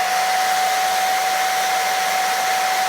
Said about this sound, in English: I'm just going to get my blow dryer and then blow dry